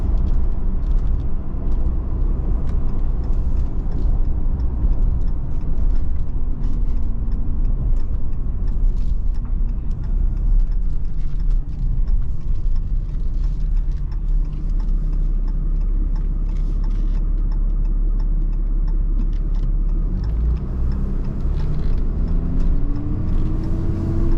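A 2018 Ram 2500 Laramie 4x4 pickup truck drives along a road, its steady low engine and road rumble droning continuously and loudly from inside the cab, with a brief rising whine near the end.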